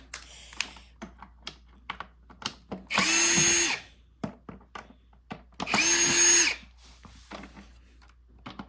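A power drill backs screws out of the base plate of a Bissell CleanView vacuum in two short whirring bursts, surrounded by sparse clicks and taps of handling the plastic parts.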